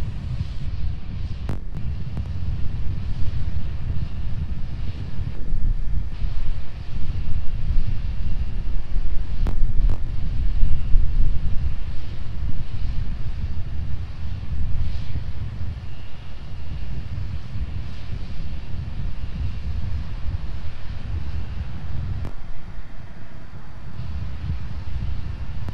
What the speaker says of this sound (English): Starship now climbing on the power of engine number 1, headed to the 10 km altitude.